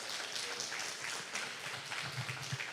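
A church congregation applauding at a service, a steady, fairly faint wash of many hands clapping that continues evenly throughout.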